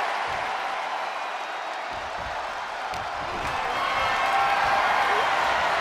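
A wrestling arena crowd in the video game WWE 2K24 cheers and applauds as a steady, dense wash of noise that swells louder toward the end.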